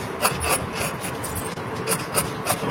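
Scissors cutting through blouse fabric along a cross-cut line make a close, continuous rasping, crunching sound with small repeated bursts as the blades close.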